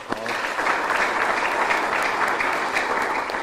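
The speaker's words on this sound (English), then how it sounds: "give you a hand of applause" A crowd at the Arkansas State introduction of a new athletic director applauds warmly, a full, sustained roar of clapping that swells in just after a brief start and holds steady.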